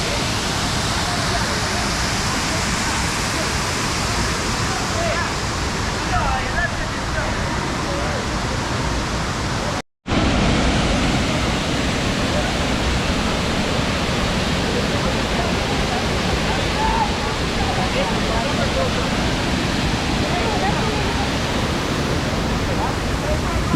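Water pours steadily down a waterfall in Munnar, a dense, loud, unbroken roar that fills the scene from start to finish, heard up close with only a split-second gap in the middle.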